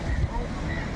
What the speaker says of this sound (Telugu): అలలు ఎంత బాగా కొడుతున్నాయో.